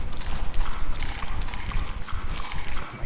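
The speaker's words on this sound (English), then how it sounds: "Where did the footsteps come from?" Heavy footsteps thud steadily in Lucifer Within Us, a clopping, hoof-like rhythm of repeated hard impacts that stays close and fairly loud over a dark ambient bed, with no voices.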